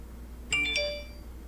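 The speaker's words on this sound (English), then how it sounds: "I apologize for my phone going off" A phone notification chime goes off once, a short bright two-tone ding with a ringing tail, heard close against a quiet indoor room with no talk.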